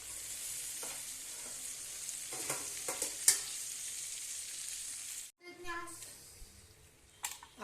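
Stuffed eggplants for masala bharli vangi drop into a hot pan, a broad steady sizzle with scattered spits and pops that briefly cuts out, then crackles back in with stirring clatter.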